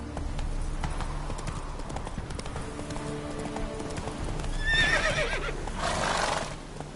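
Roach the horse gallops in The Witcher 3 with steady, rhythmic hoofbeats that continue throughout, and a loud neigh breaks in near the middle over the running clip-clop.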